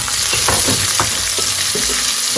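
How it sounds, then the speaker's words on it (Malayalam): Chopped onions added to hot masala oil with cashew nuts, sizzling and frying steadily with a few stirring scrapes, close and fairly loud, no talking. "ഇനി നമുക്കിതിലേക്ക് സവാള ചേർത്ത് കൊടുക്കാം."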